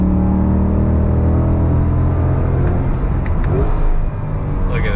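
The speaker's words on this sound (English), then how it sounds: "you just can't beat the sound of a naturally aspirated V8" A Chevrolet C8 Corvette Stingray with a naturally aspirated V8 pulls hard, a loud, close engine roar with rich layered harmonics that holds strong and then eases slightly near the end.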